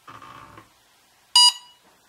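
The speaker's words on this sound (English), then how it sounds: "remember what it sounds like when you arm that engine" A short electronic beep from an RC plane's electronic speed controller arming, loud and bright, after a brief burst of broadband noise, then silence.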